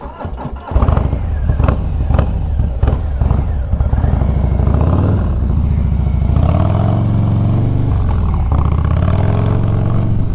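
A Harley-Davidson Low Rider S motorcycle roars close and loud as it rides onto an interstate, with a sharp clattering start giving way to a sustained engine drone that rises and falls through throttle changes.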